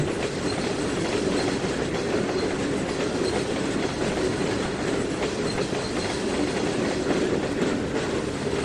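A freight train of Burlington Northern gasoline tanker cars rolls along in the Trainz 2019 railway game. Wheels rumble steadily with a faint clickety-clack throughout, and no one speaks.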